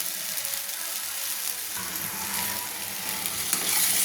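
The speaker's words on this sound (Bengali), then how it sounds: "দেখুন আমি মশলাটা নেড়ে নিচ্ছি।" Spice paste with Kashmiri chilli powder is stirred and fried in oil for egg kosha, a loud continuous close sizzle with soft spatula scraping throughout.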